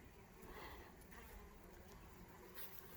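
Bees swarm around a flowering Korean evodia, or bee bee tree, in a steady, quiet buzzing drone that holds low and close, with no talking.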